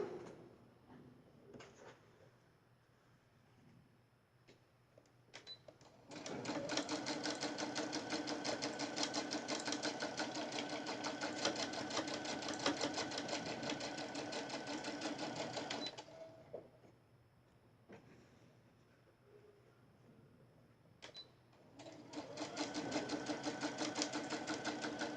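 A sewing machine runs in two long bursts of stitching with a backstitch, sewing fabric with lining for a charm-square bag, separated by a quieter pause with small handling clicks.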